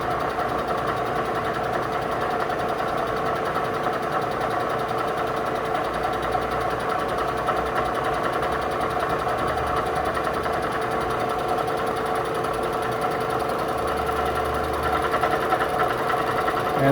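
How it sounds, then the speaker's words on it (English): Bridgeport milling machine cutting at 575 RPM with a slow 5 inches per minute feed: a steady, even mechanical whine and hum with a busy rattling texture, constant in loudness throughout and no talking. "I'm still got it spinning at about the same"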